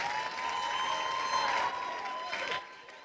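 Audience in a climate debate clapping to vote for one side, a steady wash of applause and crowd noise with a faint tone running through it, thinning out near the end.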